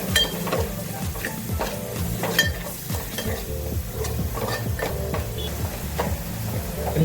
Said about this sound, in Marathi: आणि आपला स्पेशल मॅगी मसाला हे आपण आता मिक्स करून घेणार आहोत.